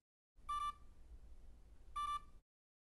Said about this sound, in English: the device will beep twice